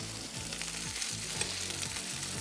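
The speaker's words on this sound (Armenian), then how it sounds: "Մենք կարող ենք արդեն մեր ծովախեցգիները տապակել" Shrimp frying in a pan, an even, faint sizzle that runs steadily throughout, with soft stirring movements and no talking.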